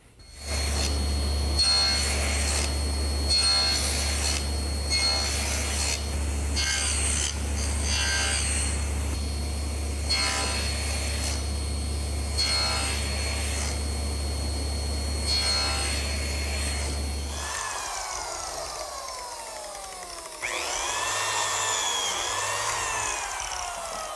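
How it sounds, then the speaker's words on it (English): A power tool cuts slots into wooden side pieces for compressed beechwood biscuits, with a steady low motor drone under loud, rough grinding and rasping for most of the stretch, then a quieter whirring tail. "I've just finished cutting some slots in both side pieces for these compressed beechwood biscuits."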